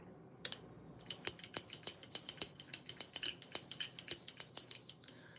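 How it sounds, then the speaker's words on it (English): A small handheld bell rung repeatedly after a tarot card reading, bright sustained ringing tones struck in a quick steady rhythm, close and fairly loud, with no talking over it. "I'm going to do a little bell."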